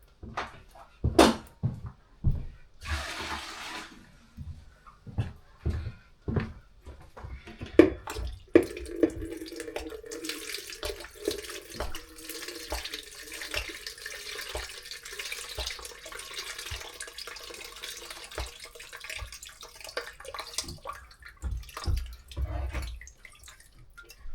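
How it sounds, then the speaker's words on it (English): Water drains and drips from a Potterton Powermax 155x gas boiler, scattered irregular drips and splashes with a brief trickle, plus occasional clanks of handling, close and quiet with no talk. "There we are, just draining out the last little drips."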